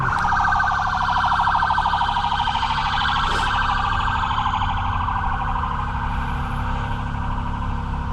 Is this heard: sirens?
yes